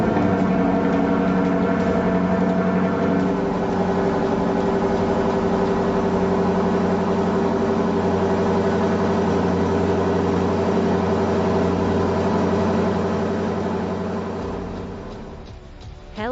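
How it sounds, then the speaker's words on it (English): A 2023 Lexus LC 500 engine, its note shaped by a sound generator with tuned acoustic plumbing, holds a steady, loud, close hum with no talk before it tapers off near the end. "a sound generator involving tuned acoustic plumbing enhances the engine's raucous melody into an aural thunder"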